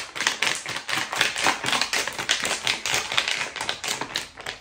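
A gooey glitter glue sensory bottle squeezed tightly by hand, giving a rapid series of close, crackly, squelching taps and pops that repeat steadily with no talking.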